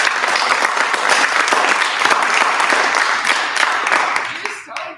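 Theatre audience applauding at Malaspina Theatre, a dense, loud wash of many hands clapping steadily for several seconds before thinning and trailing off at the end.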